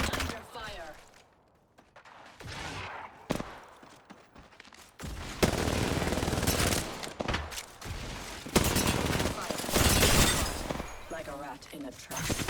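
Apex Legends gunfire erupts in bursts of rapid shots, dropping off briefly before resuming loudly, while players talk over the fight.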